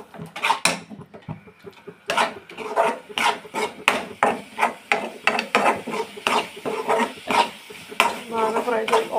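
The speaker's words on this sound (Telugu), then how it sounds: "ఇప్పుడు ఫ్రై చేస్తున్నాను." Rhythmic scraping strokes of a spatula in a pan as spice powders are fried, repeating roughly twice a second, close and fairly loud.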